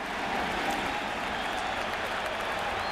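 A Shea Stadium baseball crowd at the 2000 World Series Game 4, Yankees at Mets, keeps up dense, steady applause and crowd roar throughout, loud and unbroken.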